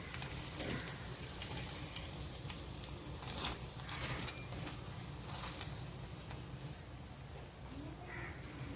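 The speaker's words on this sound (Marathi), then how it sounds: "पलटून घेते मी तूप लावून दोन्ही साईडने छान खरपूस भाजून घेणार आहे" A spinach paratha roasts in ghee on a pan, giving a faint, steady sizzle and crackle with soft scraping touches, close and quiet with no talking over it.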